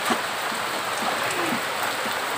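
Steady rain falling near a beach resort in Real, Quezon, a dense even hiss of drops with no break throughout.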